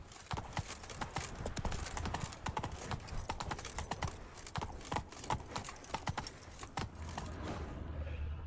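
Roach the horse trotting in The Witcher 3, a brisk rhythmic clip-clop of hooves with jingling tack, close and steady throughout, with a few quieter moments near the end.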